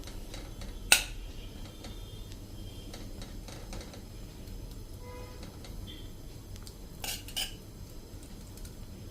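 A spoon clinks against a pan of leftover ghee from frying snacks, heated over a medium flame; a sharp scrape near the start and a pair of lighter taps later stand out over a faint, steady background hiss.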